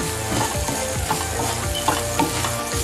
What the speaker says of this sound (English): now that the onions is being sauteed over the stove